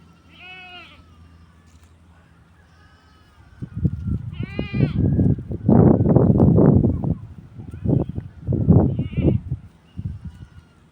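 Goats bleat several times in short nasal calls while feeding on malunggay (moringa) leaves, with people talking loudly in the foreground over most of the sounds.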